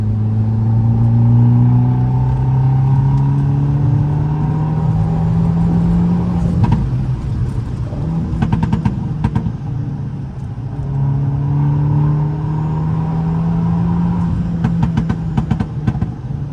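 Abarth 500 with a stage 1 tuned 1.4 engine making about 180 bhp, heard from inside on a night drive; a loud, steady engine drone rises through long acceleration pulls, with gear shifts and short crackling pops in between.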